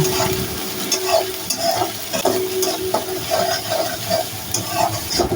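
Onion and green chilli frying in oil until pink, a steady close sizzle broken by regular scraping stir strokes roughly every half second to second.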